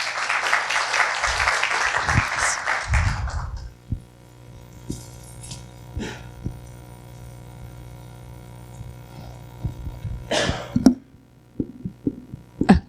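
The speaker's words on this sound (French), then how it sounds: "Je vous demande d'applaudir notre magicien." An audience at a classroom computing conference claps for a magician in a dense burst lasting about three and a half seconds, then the room falls quiet apart from scattered small knocks and clatter.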